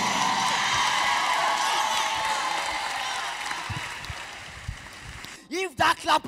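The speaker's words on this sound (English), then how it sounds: "that clap is for Pastor Jerry" A church audience at a Bowen University drama production applauds for about five seconds. The broad clapping fades gradually before a voice begins speaking.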